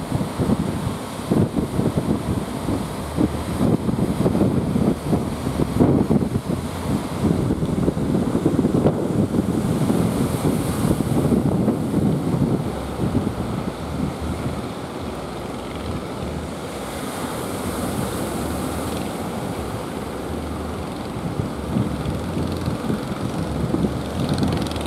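Ocean waves breaking and surging at the Plawangan channel of Pancer Beach, Jember, where fishing boats cross. A steady loud roar of surf mixes with strong wind buffeting the microphone and swells and fades without pause.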